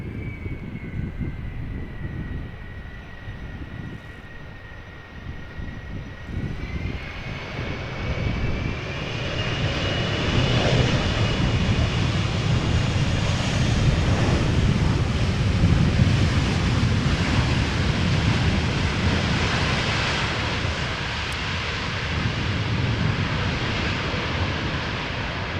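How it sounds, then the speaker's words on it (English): A Delta Airlines passenger jet, arriving from Seattle, lands at Amsterdam Schiphol. A high engine whine builds into a loud, broad roar as the thrust reversers engage, then holds for a long stretch under wind rumble. Nobody speaks. "This is Delta Airlines Flight 144, arriving from Seattle"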